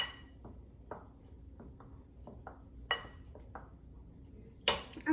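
Chocolate cookie ingredients are mixed in a bowl at home, with scattered light clinks and taps of a utensil against the bowl spaced out over a quiet background, ending in a sharper knock.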